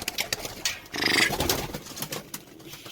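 Pigeons coo inside a coop in Ankara, with soft repeated throaty calls and rustling that swell in the middle, close and moderately loud, and no talk over them.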